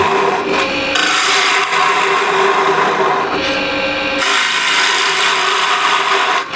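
A wood lathe spins while a gouge cuts into the turning wood, giving a loud continuous rasping scrape that swells and eases as the tool is fed in, with no voices.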